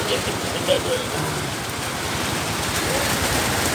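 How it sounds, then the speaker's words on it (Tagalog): Heavy rain pours down steadily and close by, a dense, unbroken hiss of drops hitting surfaces throughout. "Lakas ng ulan."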